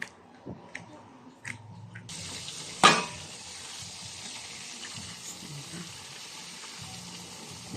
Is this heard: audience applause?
no